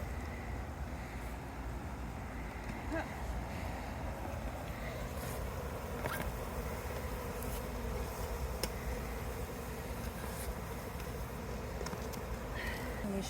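Honey bees shaken from a hive frame into a container give a continuous, moderately loud buzzing hum, steady throughout, with occasional faint knocks and rustles.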